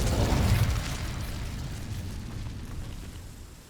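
The Incendio fire spell is cast in Hogwarts Legacy with a loud, rough whooshing burst of flame that swells quickly. A long fiery roar then fades slowly, with no talking.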